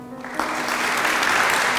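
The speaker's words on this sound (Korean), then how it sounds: "이 자리에 모시지는 못하였으나 사랑과 헌신으로 봉사해 주신 귀한 분들께 감사의 박수를 부탁드립니다." An audience at a university staff award ceremony claps steadily. The applause swells from a quieter start into a full, sustained round filling the hall.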